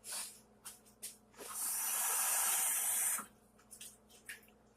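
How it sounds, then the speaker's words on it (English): Water runs from a tap in a steady hissing stream for about two seconds, added to a bowl of sauce to rinse out the seasoning, with a few small clinks and knocks before and after it and no talking. "add a little bit of water."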